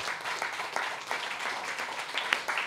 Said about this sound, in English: y'all clap it up for the B1 documentary